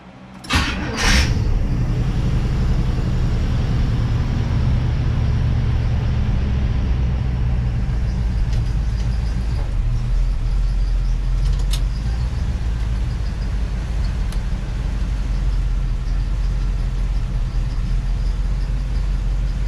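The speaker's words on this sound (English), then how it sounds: "Let's do a hot start test." An International Scout engine with FiTech EFI cranks and fires on a hot start, then settles into a steady, loud, close rumbling idle that runs on without pause.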